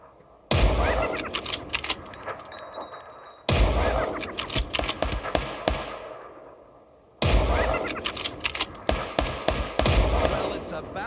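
Video game gunfire: three long bursts of rapid automatic shots, each hammering on for about three seconds with short gaps between, loud and close.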